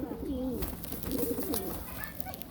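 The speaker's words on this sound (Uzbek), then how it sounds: "Kaptarlar tulovga kirdi." Pigeons coo repeatedly inside a loft, two clear bursts of soft rolling calls close by over a steady background hum.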